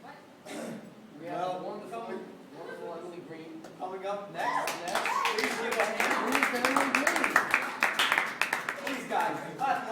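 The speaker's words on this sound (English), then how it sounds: "guys, clap louder" Audience at a comedy roast bursts into loud, sustained clapping after several seconds of talking, the dense applause continuing to the end with voices mixed in.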